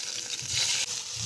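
Chicken skewers laid into hot oil in a wok over a clay stove, giving a continuous close sizzle and crackle with a short dip partway through.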